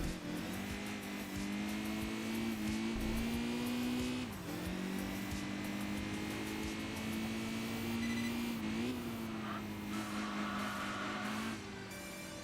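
Supercharged microcar engine in the Enthusia Professional Racing video game, a steady buzzing drone that dips briefly and climbs back, with a thin whine running over it throughout.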